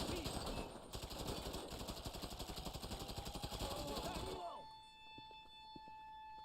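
Rapid automatic gunfire from a GTA Online heist, a fast dense burst of repeated shots that fills most of the clip and cuts off abruptly, leaving a faint electronic tone and quiet background.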